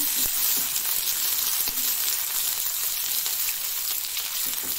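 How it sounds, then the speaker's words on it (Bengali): Dried fish, shutki, frying in hot oil gives off a steady, close crackling sizzle with a few small pops and scrapes, constant and fairly loud with no voices. "এখন শুটকি দিয়ে দিচ্ছি তেলের মধ্যে, দেখতেই পাচ্ছ। তো এগুলোকে ভালো করে ফ্রাই করে নেব শুটকিটাকে।"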